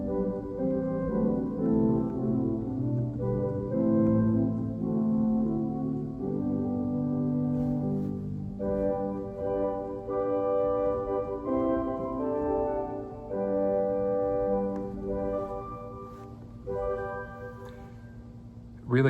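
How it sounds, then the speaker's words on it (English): An organ's 8-foot open wooden flute rank plays a slow, gentle solo melody of sustained notes, soft and steady with a smooth, rounded tone. "that is an 8-foot whole flute"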